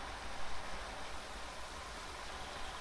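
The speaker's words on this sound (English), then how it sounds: "I like that the waterfall is constantly rendered because it's that fucking loud." A loud waterfall in the video game Beyond Eyes roars as a dense, constant broadband rush of falling water, steady and unbroken from start to finish.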